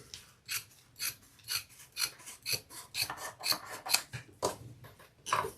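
Scissors trimming fabric for a handbag, a steady series of close rasping cuts, roughly two per second, with no talking.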